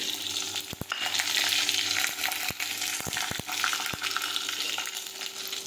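Curry leaves, asafoetida and garlic sautéing in hot oil, a steady close sizzle with sharp clicks and taps of a spoon against the pan scattered through it, and no talking.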